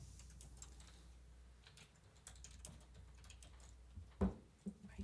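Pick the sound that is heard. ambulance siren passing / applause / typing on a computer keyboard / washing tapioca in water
typing on a computer keyboard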